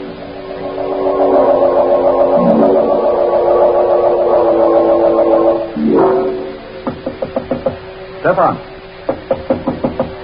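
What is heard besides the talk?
knocking on a door, radio drama sound effect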